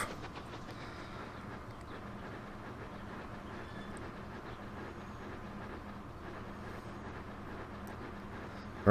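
The 777 locomotive running in the video game Transport Fever 2, a steady low rumble with a faint rhythmic rail clatter, even and continuous at moderate distance with no talking.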